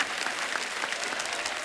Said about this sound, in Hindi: इनके कुक के लिए जोरदार ताली।